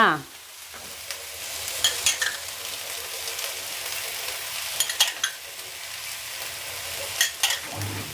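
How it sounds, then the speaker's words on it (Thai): Glass noodles with seasoning and oyster sauce stir-fried in a pan over low heat, giving a continuous soft sizzle broken by intermittent scraping and clacking of a spatula, close up and without speech. "คลุกเคล้าตรงวุ้นเส้นให้เข้ากันค่ะ"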